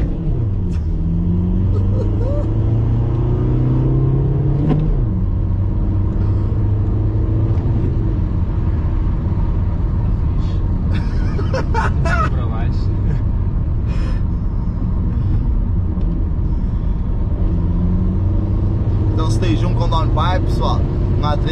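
An Audi A3 with a 1.9-litre 105 hp engine drives along, its steady engine rumble and road noise heard from inside the car while people talk.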